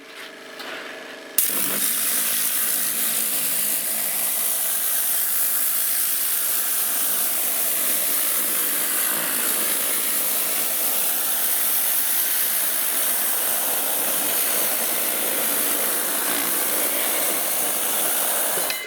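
After a brief engine hum, a loud, hissing pressure washer spray of around 200 bar starts abruptly and blasts continuously at close range.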